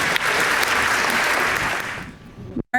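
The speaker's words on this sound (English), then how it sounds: "Let's give them a round of applause." Sustained applause from a banquet audience at an academic awards ceremony, dense steady clapping that thins out and fades near the end before a brief silence.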